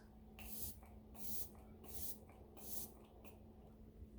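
Quiet bursts of spraying hiss from a trigger spray bottle of face primer, about five pumps in an uneven rhythm, close by and soft, with a low background hum.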